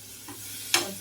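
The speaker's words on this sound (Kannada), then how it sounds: "ಫ್ರೈ ಮಾಡ್ಕೊಂಡ್ಮೇಲೆ ಇದಕ್ಕೆ ಮೊಸರು ಹಾಕ್ತಾ ಇದ್ದೀನಿ" Curd stirred into onion capsicum gravy frying in a pan, a soft brief scrape followed by a sudden short sizzling hiss.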